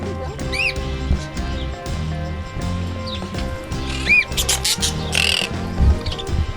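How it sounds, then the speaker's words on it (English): Bird squawks and chirps at a petting zoo, several sharp calls rising over a busy background of other animal sounds and clatter. "The bird stole the entire scene thing."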